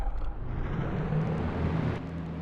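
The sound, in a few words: race car engines in a racing video game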